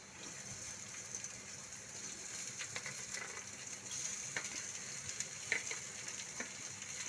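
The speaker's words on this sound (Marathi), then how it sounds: "त्यानंतर अशी चिरलेली बारीक घोळची भाजी टाकून घेऊयात।" Finely chopped ghol bhaji (purslane) frying in a pan with chilli powder: a soft, steady sizzle with faint scrapes of stirring, quiet and close.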